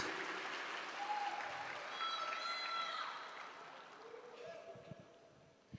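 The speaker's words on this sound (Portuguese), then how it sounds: "Será que você pode dar um forte aplauso a Ele?" Applause from a church congregation, a soft, distant swell of clapping that fades gradually, with sung or called voices rising over it.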